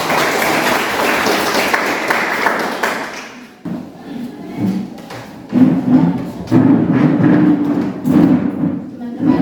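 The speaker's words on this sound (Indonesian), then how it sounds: "Mari kita tepuk tangan." Audience applause at a school teacher-training event, dense and sustained at first, then giving way to a speaking voice over scattered claps and thumps.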